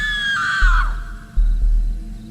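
A scream effect in a camping horror story, one loud drawn-out human-like cry that slides downward and cuts off, followed by low throbbing thuds in an eerie background.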